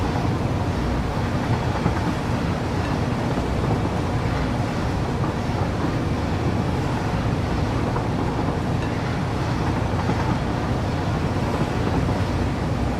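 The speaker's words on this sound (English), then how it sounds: "This train should now be full coming to the stop." A train pulls into a station in a video game, a steady low rumble and broad hiss running evenly throughout, moderately loud with no talk.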